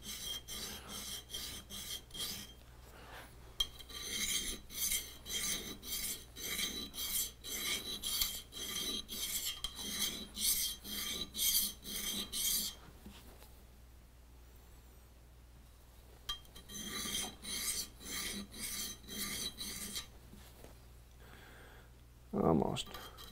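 A scrub plane blade is rubbed back and forth on a sharpening stone in rhythmic strokes of close, gritty rasping. The strokes come in two bursts separated by a quiet pause, and a voice speaks briefly near the end.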